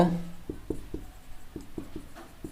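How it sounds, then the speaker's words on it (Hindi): Chalk tapping and scratching out a definition on a board, a string of short, close knocks at an uneven pace, with a voice heard briefly at the start. "मैं यहाँ पे डेफिनेशन लिख दे रहा हूं"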